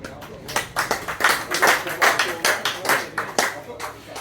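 Audience clapping for a poet at a live reading at The Chapel, a steady burst of applause from a modest crowd, close and fairly loud, rising and holding for several seconds without speech.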